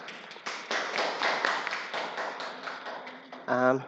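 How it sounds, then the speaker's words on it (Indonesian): Audience applause after a presentation in a classroom hadith study session, a short run of light, scattered claps that ends as a voice begins speaking. "Kita kasih aplaus untuk teman-teman kita."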